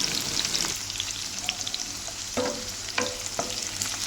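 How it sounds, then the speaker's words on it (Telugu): Onions sizzle steadily in a pan of curry while a spoon stirs them, with a few scraping knocks against the pan and a continuous frying hiss. "ఆనియన్స్ అనేది ఇలా కలిపేసుకుందాం"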